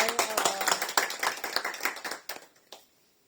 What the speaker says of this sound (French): Est-ce qu'on peut applaudir pour accueillir le pasteur